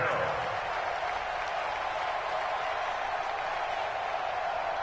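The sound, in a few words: football stadium crowd making noise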